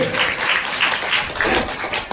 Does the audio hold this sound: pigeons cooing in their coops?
no